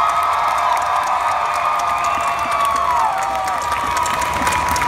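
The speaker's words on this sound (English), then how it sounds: "It's a round of applause." Audience clapping and cheering, a loud sustained crowd roar with whoops and high shouts riding over dense applause throughout.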